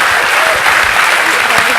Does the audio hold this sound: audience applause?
yes